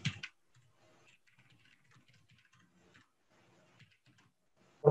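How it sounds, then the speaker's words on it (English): Someone types on a computer keyboard during an online software meeting, with faint, sparse keystrokes and small clusters of clicks over quiet background, bracketed by louder bumps at the start and end. "What am I typing here?"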